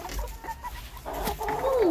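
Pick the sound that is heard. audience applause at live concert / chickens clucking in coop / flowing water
chickens clucking in coop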